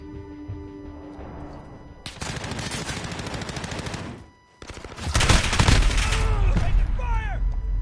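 Loud bursts of automatic gunfire in the shooter game Cracked come in two long sustained volleys split by a brief lull, with game voice chatter mixed in.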